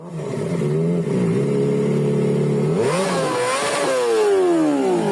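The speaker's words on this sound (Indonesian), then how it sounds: "kendaraan-kendaraan yang memakai knalpot tidak sesuai dengan standar. Jadi membuat polusi suara yang sangat mengganggu masyarakat" A motorcycle fitted with a loud non-standard aftermarket exhaust revs hard and close, holding a rough steady drone before sweeping up and down in pitch with rattling clatter.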